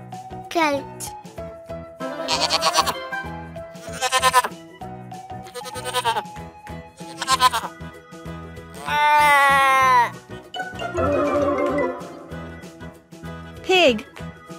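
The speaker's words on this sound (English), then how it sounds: "Goat." Several bleats from a goat alternate with a voice speaking, each call wavering and fairly loud against short spoken words.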